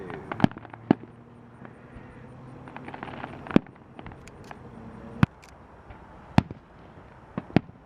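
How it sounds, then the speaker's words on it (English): Fireworks go off in the distance, sharp booms and cracks spaced irregularly, with a low rumble lingering between bursts. "Some cool fireworks."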